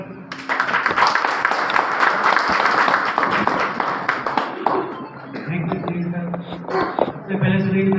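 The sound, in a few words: audience applause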